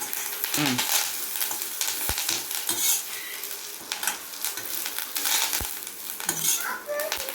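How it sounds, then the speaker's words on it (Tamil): Garlic frying crisp in a pan while being stirred, a steady bright sizzle broken by scraping spoon strokes and a few sharp metallic taps against the pan, close up with no talking. "மொறுன்னு வறுக்கணும்."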